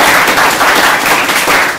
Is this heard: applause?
yes